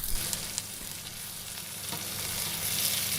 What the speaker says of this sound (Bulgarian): И ще ги задушавам за около 2-3 минутки. Като разбира се, през това време лекичко ги разбърквам, без да ги разкъсвам.